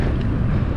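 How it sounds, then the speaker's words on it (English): Wind buffets the microphone while rollerblading on a Florida state trail, a loud continuous low rumble and roar with no speech. "Yeah, it's not super windy, but it is definitely pushing."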